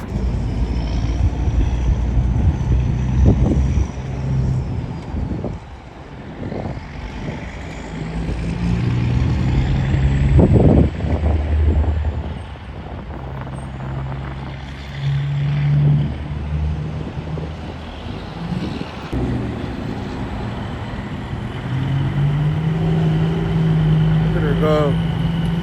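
Big Red, a heavy truck, rumbles through a low diesel idle and revving as it starts to pull away after building up air pressure, with a steady engine drone, occasional louder surges and voices talking over it.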